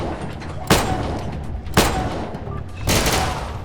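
Three sharp, loud pistol shots from a special pistol in the Atom RPG game ring out at roughly one-second intervals, each a sudden crack followed by a short decay over a steady background hum.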